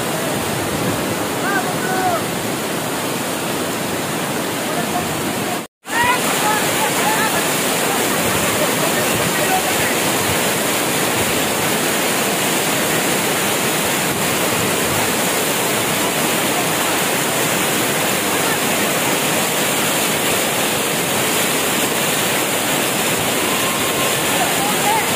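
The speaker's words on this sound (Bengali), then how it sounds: "কমলদহ ঝর্ণার পুরো যৌবন চলছে, ঝর্ণায় প্রচুর পানি" Komaldaha waterfall, swollen with abundant monsoon water, roars loud and continuous as a dense, close rush of falling water, broken only by one brief dropout.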